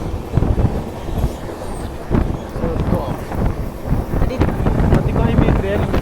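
Hirakhand Express train rolling along on a monsoon journey from Bhubaneswar toward Koraput, with steady rumbling rail noise, wind buffeting and repeated clacks, while people talk over it close by.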